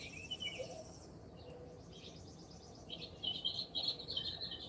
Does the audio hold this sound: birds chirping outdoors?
yes